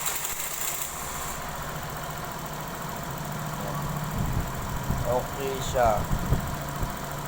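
Suzuki Burgman scooter engine idling in a steady low mechanical drone, with a brief spoken remark and a few clicks and tones from the instrument panel over it.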